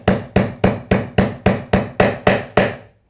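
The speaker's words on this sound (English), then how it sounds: "We can go ahead and start that just with a hammer." A hammer taps a bearing into a Crankbrothers bicycle pedal: ten sharp, evenly spaced metallic strikes, close and loud, each ringing briefly before the next, with no talking.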